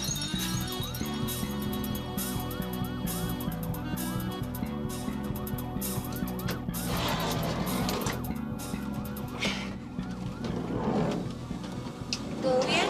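A wailing ambulance siren rises and falls steadily over dense background noise, with scattered clinks and some voices faintly mixed in.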